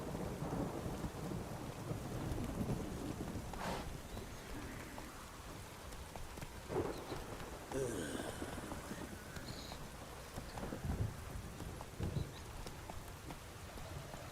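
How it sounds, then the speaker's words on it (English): A thunderstorm downpour in a Witcher video game: steady, heavy rain hisses throughout, broken by several rolls and cracks of thunder, with a faint clip-clop of hooves in places. "This downpour's a bastard, it is."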